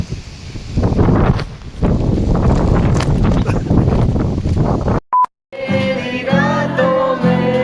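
Strong wind gusting through a storm in the UK, a loud, continuous broadband roar buffeting the microphone for about five seconds, then a brief electronic tone and a cut to a quieter, different scene.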